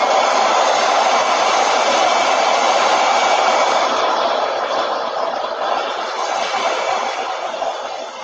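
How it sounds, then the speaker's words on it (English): A hair dryer blows steadily at close range, a loud, even rushing hiss that holds for several seconds and eases off slightly toward the end. "Let me hit that with the dryer."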